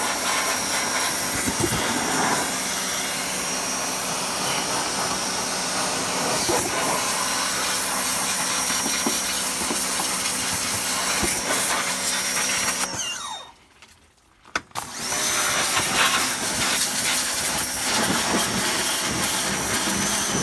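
A pressure washer sprays a 4.3L engine in an S10 pickup with a loud, steady broadband hiss, working up under the wheel area. The spray cuts out for about two seconds before resuming just as strongly.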